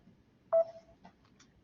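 A phone speaker plays a brief, faint electronic alert tone from a mass notification message, a short beep followed by a few fainter blips in a quiet room.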